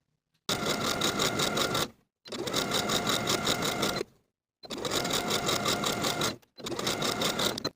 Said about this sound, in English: Now I'll fold them in half and top stitch with a zigzag.